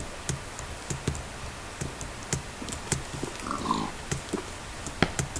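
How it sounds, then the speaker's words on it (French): A video-game pig gives a brief, faint oink midway, nearly buried under steady computer keyboard clicks and taps that run throughout. "J'ai un autre cochon."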